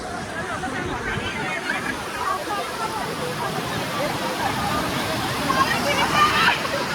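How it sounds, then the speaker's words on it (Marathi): Water pours out of Bhushi Dam in the Lonavla monsoon, a steady broadband rush of falling, splashing water that stays loud and constant throughout, with faint voices in the background. "आणि इथून पाण्याचा विसर्ग सुरू आहे."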